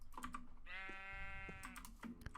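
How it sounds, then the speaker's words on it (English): A single drawn-out sheep bleat in Minecraft, loud and close, framed by clicking and shuffling noises before and after. "Oh, here's a sheep."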